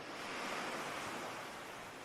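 Ocean waves wash over a sandy beach in a steady, broad surf roar, close and continuous, with no voices.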